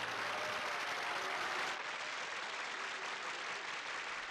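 Continuous applause from a rock concert audience fills the space, a dense, loud wall of clapping from a large crowd that never lets up.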